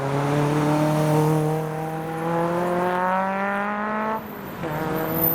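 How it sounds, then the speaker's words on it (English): A small Caterham sports car passing at a car meet, its engine note climbing steadily as it approaches, then a quick gear change before the pitch rises again, loud and near. "Oh wow, a little Caterham. Here he comes."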